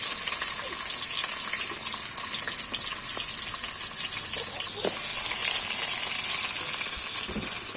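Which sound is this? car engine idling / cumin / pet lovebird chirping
cumin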